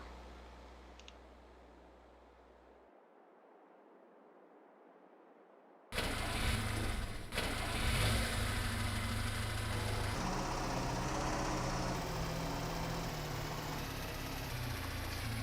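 In Farming Simulator 22, a vehicle engine cuts out, goes quiet, then starts with a sudden loud burst and settles into a steady, rough idle that runs on without a break.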